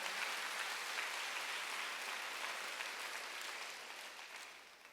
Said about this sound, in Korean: 박수로 나와주시오